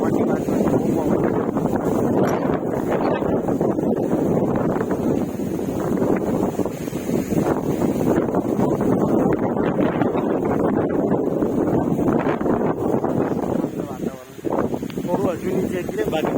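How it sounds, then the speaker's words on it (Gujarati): Strong wind on a hillside near Amliya hill roars and buffets the microphone in a loud, continuous rush that barely lets up, with a brief dip near the end. "પવનની વાત બહુ પવન"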